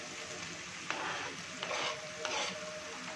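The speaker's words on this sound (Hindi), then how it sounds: "इसमें अब टमाटर और मिर्ची वो भी कटी हुई डाल रहे हैं" Chopped tomatoes and chilies drop into a masala paste frying in a pan, bringing a fairly quiet, continuous sizzle with a few brief stirring bursts, close by and free of speech.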